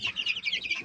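Rapid, high-pitched peeping from one-month-old decorative chicks, a quick run of short chirps repeating several times in under a second, close and clear with no voices.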